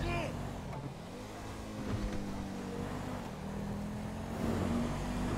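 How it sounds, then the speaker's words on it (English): A Dodge Charger engine in GTA V's LSPDFR roars and revs steadily, building in pitch as it accelerates, with a busy mix of game noise around it. "This charger's got some acceleration,"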